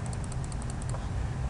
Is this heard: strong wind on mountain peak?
no